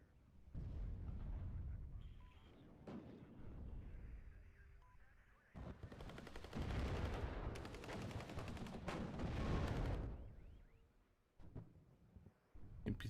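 Mortar fire and gunfire in the real-time strategy game WARNO come in repeated bursts, with dense crackling volleys and heavy booms swelling and fading across a noisy battle soundscape.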